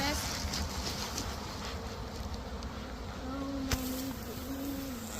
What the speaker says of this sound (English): Makes a cloud of bees, but it's about the gentlest way you can do it.